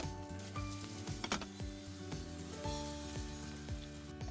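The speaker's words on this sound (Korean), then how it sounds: "팬에 기름을 넉넉히 두르고 달궈진 기름에 가지를 튀기듯 볶아줍니다" Eggplant coated in glutinous rice flour fries in plenty of hot oil in a pan, giving a steady close sizzle with occasional crackles and light stirring scrapes.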